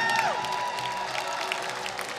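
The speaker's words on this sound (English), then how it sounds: "Come on, round of applause, ladies and gentlemen." An audience at the Miss Earth 2015 coronation night claps in a modest, fairly distant round of applause over a steady hum, with a brief tonal sweep near the start.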